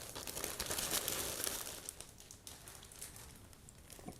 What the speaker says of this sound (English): let's open this kit